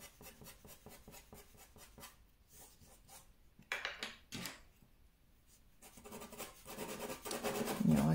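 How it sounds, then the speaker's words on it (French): Dry pastel pencils rasp and scratch across paper while drawing white cat chest fur, a close, steady stroking texture with brief pauses and a few louder strokes. "que le bruit du crayon sur le papier."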